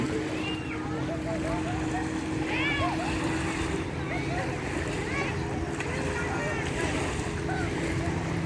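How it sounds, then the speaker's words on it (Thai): A jet ski runs on the water at a beach in Bueng Khong Long, Bueng Kan, giving a steady engine hum mixed with wind and lapping water, with faint voices in the background. "ก็จะมีเรือนะครับผมเรือเจ็ตสกีโอ้โหขับเล่น"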